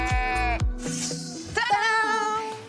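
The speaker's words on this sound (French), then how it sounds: "Bah les moutons, partez pas." Sheep in Morbihan, Brittany, bleating loudly and close, several overlapping wavering calls in quick succession with no talk over them.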